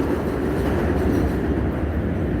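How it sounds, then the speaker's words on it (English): A loud train rolls past close by in Brownsville, New York, giving a dense, continuous rumble and roar of wheels and cars for the whole stretch, with no voices over it. "I don't know how the fuck niggas live with these loud ass trains next to them."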